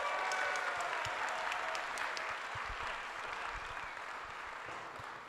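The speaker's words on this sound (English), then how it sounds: "let's give her another round of applause." A crowd applauding steadily, dense clapping that carries on for several seconds and slowly fades a little in the distance.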